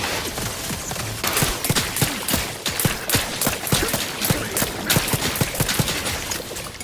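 Rapid bursts of gunfire from a weapon in the video game Outer Worlds 2, loud repeated sharp shots in quick succession with a steady background of game noise.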